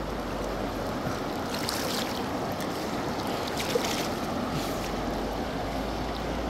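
Swollen Jiboa river in flood rushing past with a steady, loud, broadband roar of strong current, continuous and unbroken from start to end, with no voices.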